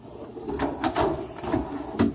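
Several short scraping slides and clunks from a mechanic's toolbox drawer being pulled open and pushed shut, a handful of quick soft knocks spread over two seconds, fairly quiet and close.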